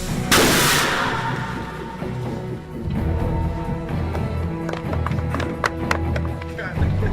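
A large Jericho missile explosion goes off on a film set, opening with a sharp loud blast that trails into a rumbling decay, followed by scattered thuds and clattering debris.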